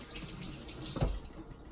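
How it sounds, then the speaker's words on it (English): Hands rinsed under a running kitchen tap while cooking a lasagna casserole, a brief, soft rush of water with a splashy peak near the middle, close and fairly quiet. "Rinse my hands off."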